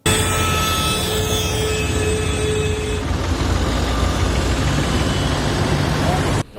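Farm tractors idling in a protest convoy by farmers over unpaid bills and cut water, a loud continuous diesel rumble close by with a shift in engine tone midway.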